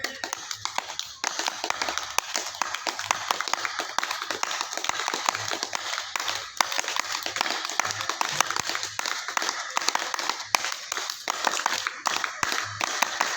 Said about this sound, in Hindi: अभी ताली बजाओ जोर से।